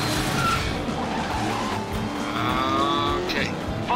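Car drifting with sustained tire squeal in the video game Stuntman Ignition, steady engine roar under the screech throughout, with rising squeal toward the end.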